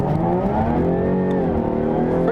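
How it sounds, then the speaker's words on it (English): Jaguar F-Type Coupe V6 engine revving in sport mode, a loud continuous growl with rising and shifting pitch, heard from inside while driving, no talking. "Now the amazing thing is that this V6 sounds, I'll put it in sport actually"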